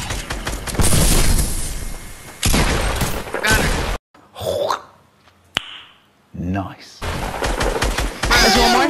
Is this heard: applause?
no